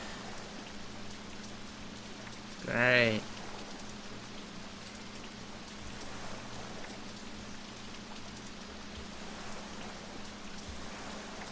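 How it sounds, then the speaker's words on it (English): Rain falls steadily in the park-building video game OpenRCT2, a dense continuous hiss, while a voice briefly speaks one word early on. "Starting off with the rain early, are we?"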